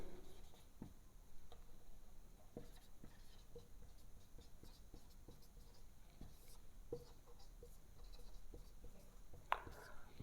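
Pen or pencil scratches across paper while the Pythagorean theorem is written out for a class 10 trigonometry lesson, making soft, irregular strokes and taps that sit quietly over faint background noise.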